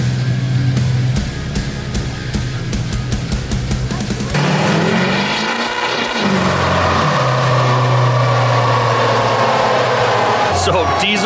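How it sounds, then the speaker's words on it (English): Diesel vehicle on a dynamometer, the engine idling with a low drone before surging into a loud, sustained rev and roar that rises and holds, with a person talking over parts of it. "So diesel dyno pulls can be kind of boring, but being a diesel guy, I absolutely love it."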